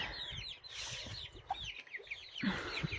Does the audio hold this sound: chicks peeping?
yes